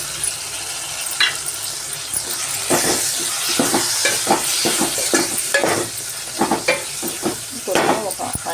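Garlic and coriander paste frying in a pan for ghee coriander rice, a steady close hiss overlaid with a quick series of stirring scrapes and taps against the pan.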